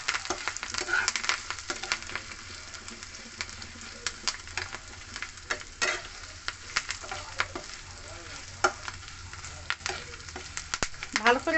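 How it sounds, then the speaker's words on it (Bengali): Close, continuous sizzling of cumin, mustard seeds, curry leaves and grated ginger frying in a wok on a gas stove, punctuated by frequent spatters and clicks of a spoon stirring, with faint background voices. "এই সবগুলো ভালো করে একটু ভেজে নেব।"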